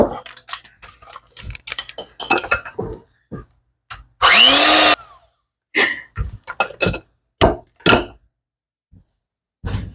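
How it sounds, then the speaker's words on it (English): An electric stand mixer creams butter and sugar at high speed for a brief, loud, steady whir of under a second, set between bursts of talking before and after. "My mixer is too high speed, but hey, I'll make it work."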